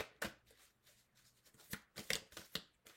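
Tarot cards being shuffled by hand during a reading, a series of close, crisp riffles and slaps that come in irregular bursts with short quiet gaps between them.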